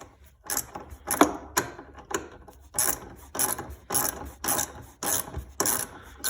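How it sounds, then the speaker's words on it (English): Fan shroud being taken off a Jeep LJ Wrangler: repeated ratcheting and scraping bursts of hand tools on the fan shroud, close and fairly quiet, in an irregular rhythm with short pauses between strokes. "taking off the fan shroud"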